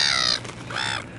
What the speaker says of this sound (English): And the seagull's moaning.